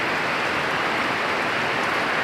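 Steady rain falls continuously in an outdoor mountain setting, a dense even hiss of drops with no pauses and no voices.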